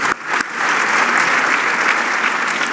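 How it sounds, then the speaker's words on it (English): Sustained applause from a crowd at a forum in Toronto's Royal York hotel, steady and fairly loud throughout, with a couple of sharp claps at the very start. "give a big round of applause to the servers"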